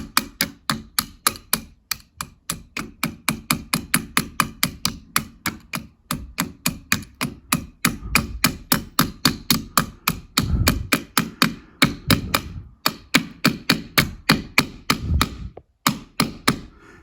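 Rapid, evenly spaced light taps of a hammer, dozens in a row at close range, while fitting a rotary light dimmer, with a couple of short pauses.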